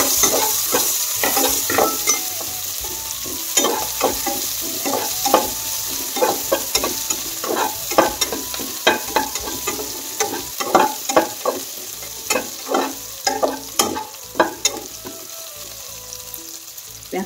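Mustard seeds, dried chillies and onions fry in oil over a low gas flame, with steady sizzling and irregular sharp pops and crackles from the seeds bursting. The sound is close, with no talk.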